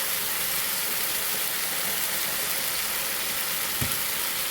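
Tomato puree sizzling in a hot pan for a homemade pasta sauce, a steady dense frying hiss that holds evenly throughout, with a brief soft clink near the end and no talking.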